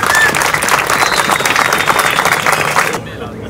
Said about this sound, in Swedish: Så det tycker jag att ni ska få en applåd allihopa.